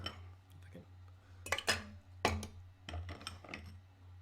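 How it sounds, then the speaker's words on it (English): Ice cubes drop into a cocktail shaker for an Improved Sidecar, giving a few sharp clinks and rattles in short bursts against a low steady hum. "then you throw in some ice."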